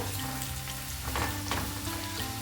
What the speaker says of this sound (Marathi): आता मीडियम टू हाय गॅसवर आहे ना आपल्याला हे छान असं गोल्डन होईपर्यंत परतून घ्यायचं आहे